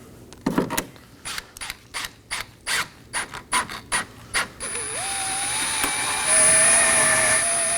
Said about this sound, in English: finish installing our 6 T15 Torx screws that hold the grille down